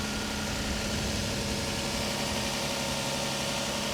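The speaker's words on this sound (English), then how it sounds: "But the engine sounds okay." A car engine idles steadily up close, a constant low rumble and hum with no change in pitch. The car is a very dirty salvage-auction vehicle.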